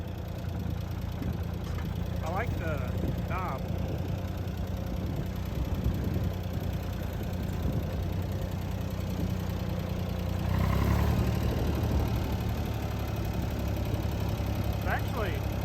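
An old Ford 2600 diesel tractor engine idles steadily throughout, a constant low chugging drone heard close by, with a person speaking briefly over it.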